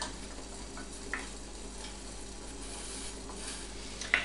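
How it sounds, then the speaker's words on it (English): A spoon scraping and stirring a camembert cream sauce in a pan on the stove, a faint, steady soft sizzle and scrape with occasional light clinks, heard close and alone. "So I'm just going to keep stirring this so that nothing sticks to the bottom of the pan or gets burnt."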